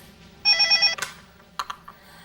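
A telephone rings with an incoming call in a domestic drama: one burst of an electronic trilling ring, close and clear, followed by a click and a few soft clatters as the receiver is picked up.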